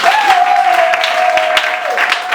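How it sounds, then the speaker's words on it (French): A church congregation bursts into a short, dense round of applause with mixed voices and cheers, and a sustained sung or shouted tone carries over the clapping. "Acclamons Jésus."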